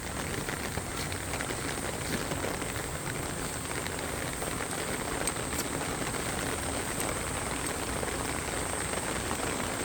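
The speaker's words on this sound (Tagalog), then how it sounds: "Kahit umuulan kami ano, kaya ito ang aking outfit." Steady rain patters densely on surfaces outdoors during a vegetable harvest, an even, continuous hiss of drops with no talk over it.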